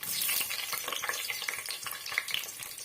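Fennel seeds, bay leaves and green chillies splutter in hot oil with a close, busy crackle of rapid pops and hissing that stays steady throughout.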